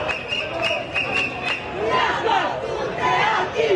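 Street clashes on Viale 20 Settembre in Trieste, with a shouting, agitated crowd facing riot police; rowdy massed voices and yells fill the scene continuously, with some sharp bursts early on.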